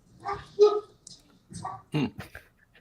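Pet dogs in a home reacting to someone at the door: several short, scattered barks and yelps spread over a few seconds, moderately close, with no talk over them.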